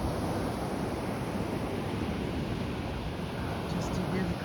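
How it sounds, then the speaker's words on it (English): Surf washing onto a beach, a steady broadband roar of breaking waves with wind rushing across the microphone, continuous and fairly loud throughout with no clear separate crashes. "Just to hear the crash of the waves."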